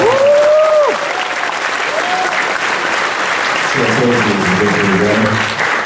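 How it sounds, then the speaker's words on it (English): A panel audience at a New York Comic Con session bursts into steady applause that fills the room, loud and close, with a voice speaking over the clapping near the start and a few voices near the end. "just a round of applause for everybody else who made it"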